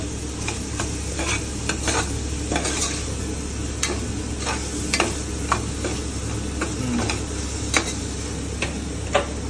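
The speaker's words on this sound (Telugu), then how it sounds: "అల్లం వెల్లుల్లి పేస్ట్ వేస్తే వెంటనే ఇట్లా స్టిక్కీనెస్ వస్తుంది కింద." Ginger garlic paste sizzles steadily in a hot pan, with a continuous frying hiss and repeated close scrapes and taps of a spoon stirring the sticky paste against the metal.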